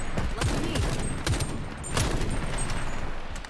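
Gunfire in Shatterline, PvE mode, with sharp shots and short bursts from several weapons firing at irregular intervals, loud against a steady backdrop of game ambience.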